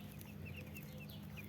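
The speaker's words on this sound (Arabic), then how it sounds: "الكتكوت ده جايبينه ب32 جنيه." A young chick gives faint, repeated high peeps at a steady pace over a constant low indoor hum, quiet and somewhat distant.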